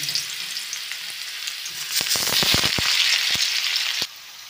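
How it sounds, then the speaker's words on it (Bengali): Potatoes fry in hot mustard oil in a wok for dhokar dalna, a steady close sizzle that breaks into a cluster of crackling pops midway before settling back. "প্রথমে কড়াইতে আমি আবার সর্ষের তেল দিয়েছি, দিয়ে এবার আলুগুলো প্রথমে ভেজে নেব"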